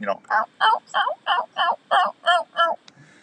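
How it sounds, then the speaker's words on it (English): A turkey hen yelp call runs as a series of about eight evenly spaced, clear raspy notes, loud and close, ending with a faint click. "hens make between 5 and 7 notes when they yelp"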